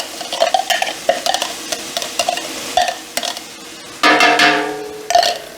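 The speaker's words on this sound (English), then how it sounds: "we're going to put the rest of our garlic and onion in our veggies" Garlic and onion are stirred into sautéing vegetables for Italian wedding soup, with a spoon scraping and clacking against the pan over a bright sizzle that flares up loudly partway through. The sound is close, with no talking.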